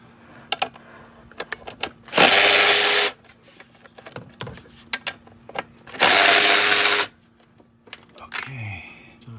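Two sustained bursts from a power driver or ratchet spin out 8 mm intake manifold bolts on a Jeep JK, each lasting about a second, separated by scattered tool clicks and handling noises.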